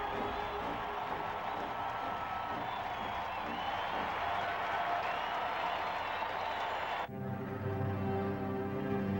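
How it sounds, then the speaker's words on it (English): A record crowd of about 85,000 fans in the Ohio State football stadium, the Giant Horseshoe, roars and applauds in a continuous loud wash, cut off abruptly near the end. "It is the season's third record-breaking crowd."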